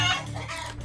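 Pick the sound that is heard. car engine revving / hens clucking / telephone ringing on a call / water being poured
hens clucking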